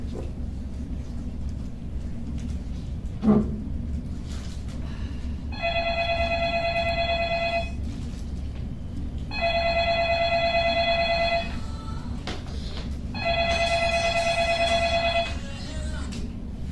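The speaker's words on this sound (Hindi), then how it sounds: "दीनू, अरे हम तेरे ही फोन की राह देख रहे थे।" A telephone bell rings in three long electronic bursts, each about two seconds, separated by pauses, over a steady low background hum, with no talking, in a staged tragic play.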